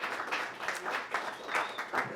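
Audience applause at a panel discussion on the war in Ukraine, a faint, steady patter of many hands clapping, heard from a distance for a couple of seconds.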